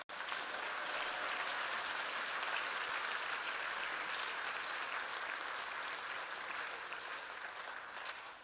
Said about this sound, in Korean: 여러분 우리 진정한 감사의 박수를 오늘 올려주시면 어떨까요?